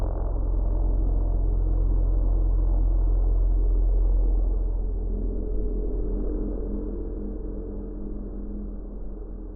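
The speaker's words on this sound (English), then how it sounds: "I'm going to go with quite a bit of full throttle here. Get this thing really revving up." A pulling tractor at a tractor pull holds full throttle, a deep, loud, sustained engine roar that eases slightly after about five seconds, muffled as if heard through wind, with no voices.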